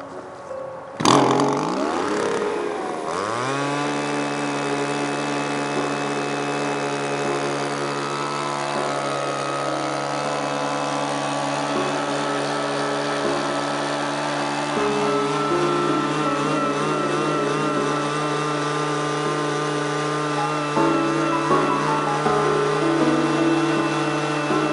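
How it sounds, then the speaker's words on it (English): A leaf blower spins up after a sharp start and then holds a steady, loud whining drone as it blows air upward to float a basketball; the note wavers slightly throughout and no one speaks. "we're going to try the effect on a lot larger scale using a leaf blower"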